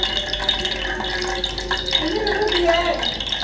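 Mumbar, rice-stuffed intestine, fries in a pan with a steady close sizzle and soft spatter throughout, while a voice talks over it.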